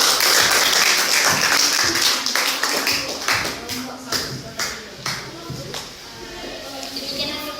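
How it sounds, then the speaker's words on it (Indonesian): A classroom full of people clapping steadily after a group presentation, dense and continuous at first, then thinning into scattered individual claps with some murmuring underneath. "Mari kita tepuk tangan untuk kelompok 1."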